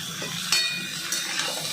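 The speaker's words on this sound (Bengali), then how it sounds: "একটুখানি ভাজা ভাজা হোক" Kalmi greens fry in a pan with a soft continuous sizzle, broken by a couple of sharp metallic clinks as a utensil stirs against the pan.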